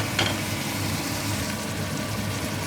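Frozen vegetables drop onto minced meat and onion frying in a pan, giving a steady, fairly loud sizzle and crackle throughout with a brief sharp clatter near the start and no talking.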